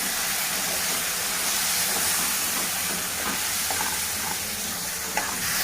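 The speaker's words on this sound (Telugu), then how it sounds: "ఇప్పుడు ధనియాల పొడి ఇప్పుడు కారం మంచిగా కలుపుకోవాలి" Coriander powder and chili powder are stirred into a frying egg and broad bean curry, making a steady, close, hissing sizzle with faint scraping of the spoon through the pan.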